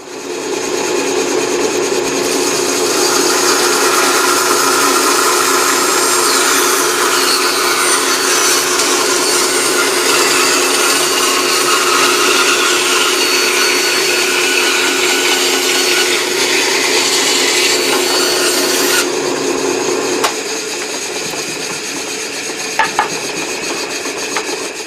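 Wood being cut for a mortise gives a steady, loud, rasping noise that runs without a break for about twenty seconds before stopping abruptly, leaving quieter background.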